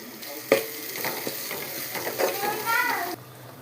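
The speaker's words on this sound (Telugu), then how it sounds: "ధనియాల పౌడర్ వేసి కొద్దిసేపు కలపాలి" Coriander powder being stirred into chicken frying in a pan, with a steady sizzle and a few scraping strokes of the spoon, close and moderately loud, no talking.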